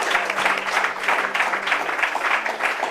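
A church congregation claps and applauds steadily throughout, a dense continuous wash of hands at moderate loudness with faint voices underneath.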